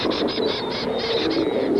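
Gulls call over a sea lion birthing colony, a string of repeated rhythmic cries over a constant, dense background of animal noise.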